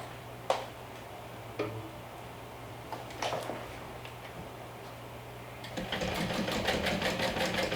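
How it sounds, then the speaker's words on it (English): A sewing machine stitches an eighth of an inch from the edge of accent vinyl on a bag's slip pocket and lining, a few short bursts and taps giving way to a steady rapid run near the end. "now I'm going to go ahead and stitch with an 1/8 of an inch away from the edge of the accent vinyl"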